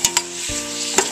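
A pot of crawfish etouffee with onions sizzles steadily while a spoon stirs it, the scrapes landing as a few sharp knocks over the continuous frying hiss.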